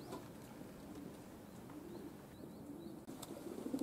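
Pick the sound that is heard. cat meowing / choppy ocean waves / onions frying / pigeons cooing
pigeons cooing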